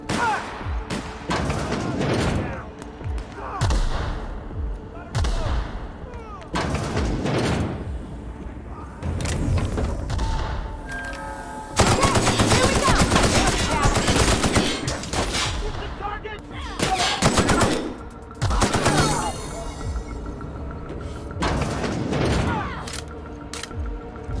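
Loud bursts of gunfire and booming shots from the video game The Outer Worlds come in repeated volleys, with voices speaking between and under the shooting.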